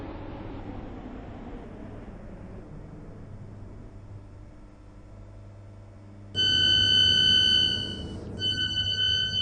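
A Class 321 electric train running in the Stepford County Railway game, a steady rolling rumble and traction whine, then a sudden louder passage with high tonal whistles near the end.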